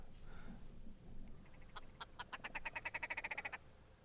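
A distant red grouse gives a rapid, accelerating series of dry, rattling clucks that speed up into a chattering burst, alone over faint background noise.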